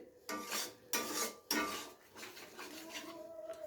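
Fish masala with milk being stirred and sautéed in a wok for a Bengali milk-katla dish, with several loud rhythmic scraping strokes of a metal spatula against the pan and a faint sizzle beneath, no voices.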